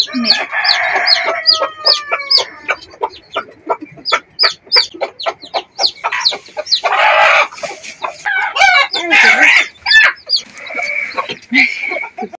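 A hen clucks repeatedly at close range, short rhythmic calls mixed with higher chirping and occasional longer squawks, no talking.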